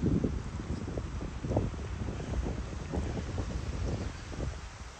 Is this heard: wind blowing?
yes